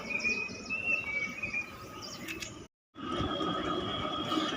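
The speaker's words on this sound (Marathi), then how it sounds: "पक्ष्यांचा आवाज." Birds chirp faintly on a quiet rooftop terrace in the morning. Short high calls sit over a soft background hum, with a brief moment of silence midway through.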